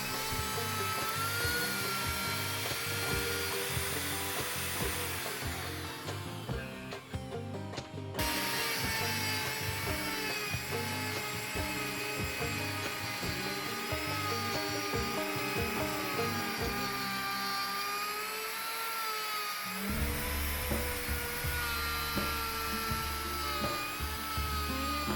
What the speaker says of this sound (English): using a pattern routing bit, I just went around and cut a channel